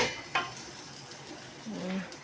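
Pancit and bihon noodles are stirred in a pot, with a few soft clinks and scrapes of a utensil against metal over a light sizzle, close and fairly quiet.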